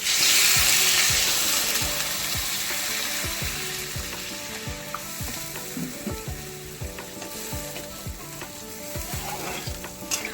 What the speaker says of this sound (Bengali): এবার আমার মশলাটা কষে গেছে, জল ঢেলে দেবো।